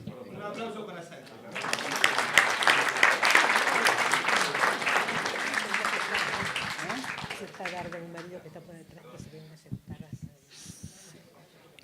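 An audience at a public talk marking the centenary of Argentina's Semana Trágica bursts into loud applause that swells quickly, holds for several seconds, then thins out into scattered claps and murmurs.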